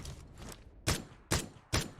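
Three sharp, loud gunshots in a battle royale shooter, evenly spaced about half a second apart, following a quieter stretch of faint shuffling noise.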